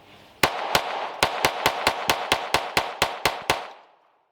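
Thirteen sharp shots from a Taurus TX22 .22LR pistol fired at a range, spaced fairly evenly over about three seconds, each a crisp loud crack with a short decaying tail, ending in quiet.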